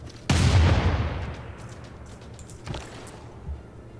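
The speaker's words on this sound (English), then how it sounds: "we're definitely going to start taking shots with our bombard" A bombard cannon in a Civilization VI battle fires at a city, one sharp loud boom that rumbles away over a second, then a fainter second report and a softer thump follow.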